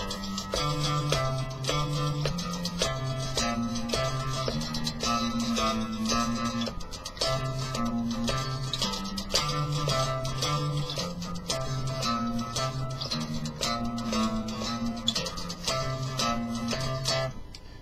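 Guitar notes plucked in quick, even repetition, each pitch repeated several times before moving on, a steady melodic pattern with no talking.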